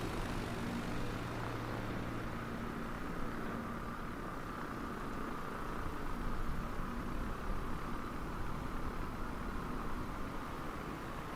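A simulated STOL airplane in a flight-simulator game during its takeoff roll, a steady, faint, broadband engine drone that swells slightly midway.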